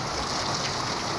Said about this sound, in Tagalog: umuulan po guys